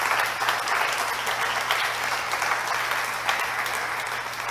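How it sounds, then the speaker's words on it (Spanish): Church congregation applauding at a Spanish-language sermon on marriage conflict, a steady dense wash of clapping from many hands held at even loudness over a low constant hum, with no voices over it. "Denles aplauso al Señor."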